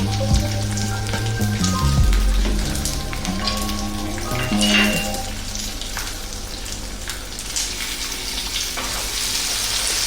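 Onion, ginger and garlic frying in a pan on high heat, a loud continuous close sizzle with occasional stirring, a low hum underneath and no talk.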